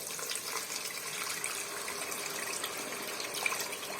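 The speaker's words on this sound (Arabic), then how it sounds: "انزل بقى بالميه عندي هنا." Water poured into a pot of cooked tomato and onions for koshari, a faint, steady trickling and splashing throughout, with no voices.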